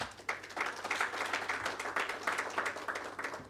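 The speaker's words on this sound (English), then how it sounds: "You can clap for them." Steady applause from a conference audience at the 2022 African Development Bank annual meeting in Accra, Ghana, a dense patter of many hands clapping continuously at moderate distance.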